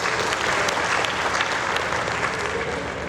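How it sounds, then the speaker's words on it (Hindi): A live audience at a youth festival bursts into sustained, dense applause, loud and steady throughout with no talking over it. "ताली बजाओ सब इनके लिए।"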